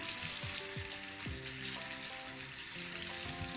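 Chicken pieces fry in hot oil with a steady, dense sizzle and crackle throughout, close and even in level, while a soft musical background plays underneath.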